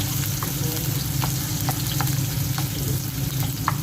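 Onions sizzle in a hot pan for ginataang manok after the garlic, a steady, dense frying crackle with occasional stirring clicks, close and continuous.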